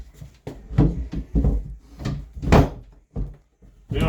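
A rehung interior door is swung and closed, giving a series of woody thunks, knocks and hinge bumps in irregular bursts at close range.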